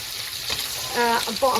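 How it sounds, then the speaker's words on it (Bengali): Fish sizzles in a frying pan with a steady close hiss, while a voice briefly talks over it near the end. "এদিকে মাছটাও ভাজা হতে থাকবে"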